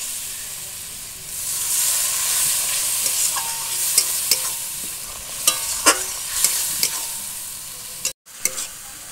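Chili and turmeric spice masala sautéing for homemade chicken biryani, a steady close sizzle with repeated scraping stirs and sharp clinks of a spoon against the pan.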